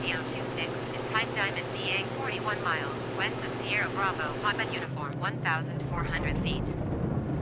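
An airplane's steady engine drone in Microsoft Flight Simulator 2020 runs beneath continuous talking, the engine tone shifting partway through.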